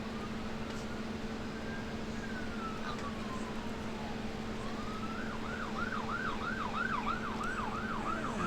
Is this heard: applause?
no